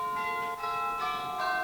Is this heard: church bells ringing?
yes